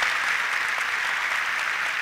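Audience at a Turkish folk dance contest clapping in a dense, steady burst of applause that fills the hall, loud and unbroken throughout.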